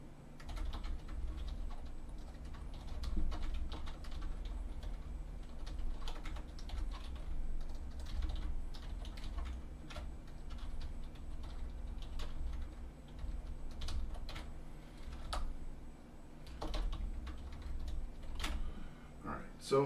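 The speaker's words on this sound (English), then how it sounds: "let's listen to the typing" Steady clicking of keys on an Amazon Basics wired QWERTY computer keyboard, close and fairly quiet, continuing at an even pace for the whole stretch with a low hum underneath.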